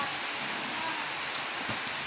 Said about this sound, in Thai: ตอนนี้ก็ ฝนตกครับ